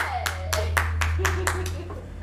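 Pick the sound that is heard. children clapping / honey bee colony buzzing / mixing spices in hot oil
children clapping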